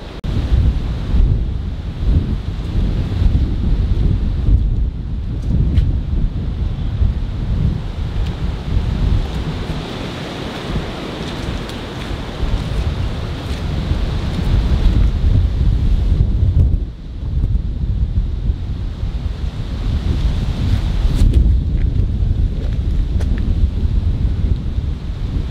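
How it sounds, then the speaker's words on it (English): Strong outdoor wind gusts at a farmhouse, a loud continuous roar with heavy buffeting against the microphone that dips briefly and surges back, with no voices. "The wind was crazy"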